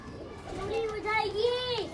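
Sialkoti Teddy Lakha pigeons coo close by in a soft, wavering, continuous murmur lasting about two seconds.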